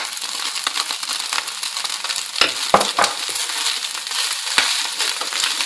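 Chopped carrots frying in a pan with pieces of fried chicken, giving a continuous loud sizzle and crackle with a few sharper pops and scrapes of stirring, and no voices.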